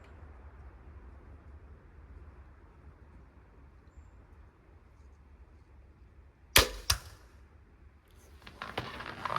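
A crossbow is fired at a target outdoors in cold weather, giving a sharp snap with a quick second crack after a quiet stretch of low outdoor rumble, followed by louder handling and rustling noises.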